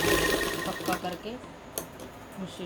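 A sewing machine runs in short bursts of rapid mechanical stitching while double-stitching the seams of an Afghani salwar. The whirring comes in uneven spurts with small clicks, close by, under a faint voice.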